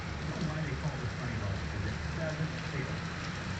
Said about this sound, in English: if you can see that street light and see all that rain coming down, you might be able to hear it